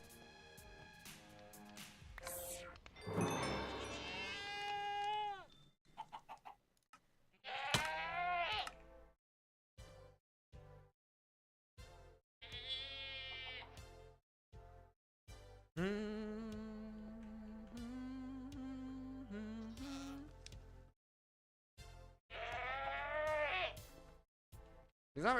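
A goat bleating in the Minecraft modpack Stoneblock 4, several loud wavering bleats repeating in separate bursts with silent gaps between them.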